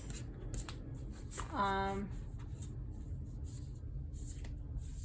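A tarot deck, Madam Clara's 5 Cent Tarot, is shuffled with rifle and overhand methods, giving soft, close papery rustling. A short riffling burst stands out in the middle.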